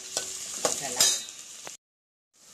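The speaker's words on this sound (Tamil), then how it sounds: "நல்லா வெங்காயம் அந்த பச்சை வாசனை போக வர வதக்கிட்டு" Onions sauté in a pan with a soft steady sizzle and a few sharp clicks of a spatula against metal, breaking off briefly into silence near the end.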